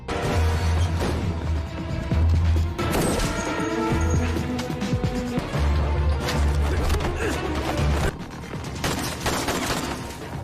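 Loud, dense gunfire from a film shootout inside a building, sustained bursts running continuously throughout with crashes mixed in, dense and close.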